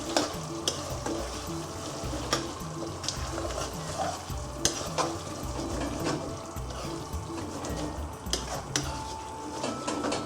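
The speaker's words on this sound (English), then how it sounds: "give it a good stir" Chicken with chopped coriander being stirred in a frying pan for a restaurant-style mirchi chicken bhuna, with a steady sizzle under repeated scraping and clinking of a utensil against the pan, close and fairly loud, with no talking.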